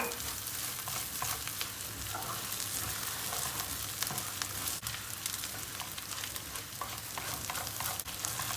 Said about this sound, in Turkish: Salçayı da kavurduk.